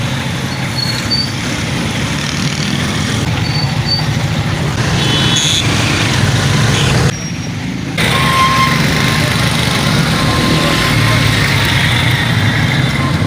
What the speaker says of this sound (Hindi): मसरूफ़ तरीन सड़क है। ये इकबाल रोड के नाम से जानी जाती है ये सड़क।